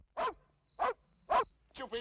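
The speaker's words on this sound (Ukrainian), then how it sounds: "Хочу видресирувати старих собак." Four sharp dog barks at a steady pace, close and clear against a quiet background.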